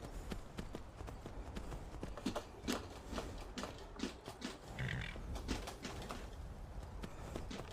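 Horse hooves clip-clop in the video game Skyrim VR, a quick run of close, crisp hoof knocks repeating steadily over a busy, rumbling background.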